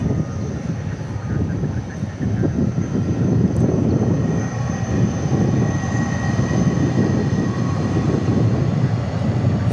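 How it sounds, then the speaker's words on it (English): Airbus A300 freighter jet at DFW airport, a loud, steady engine roar with a broad rumble and a thin high whine, holding close and constant throughout. "the A300 freighter, the old school"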